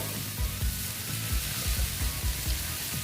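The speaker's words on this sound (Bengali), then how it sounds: "এটাকে আমি ভালো মতন একটু কষিয়ে নিচ্ছি আর একটু কারণ ডিমের যে কাঁচা গন্ধটা চলে চলে যাবে" Young jackfruit and egg sauté in a pan with a soft hiss of frying throughout, while a spatula drags and stirs in a series of low, rhythmic scrapes.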